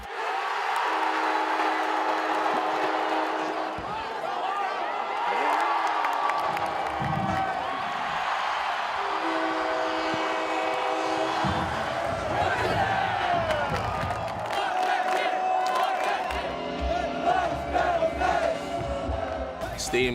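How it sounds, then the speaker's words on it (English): A roaring football stadium crowd at a college game, loud sustained cheering with chanted, sung phrases rising and falling, whoops and shouts piling on, and the full crowd swelling near the end. "The crowd is going insane."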